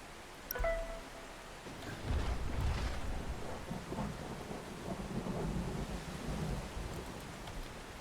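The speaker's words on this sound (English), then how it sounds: "Oh, the hail's starting." A thunderstorm with hail in the OutBRK storm-chasing video game, with rolling low thunder rumbles swelling and fading over a constant wash of rain and pattering, plus a faint brief tone near the start.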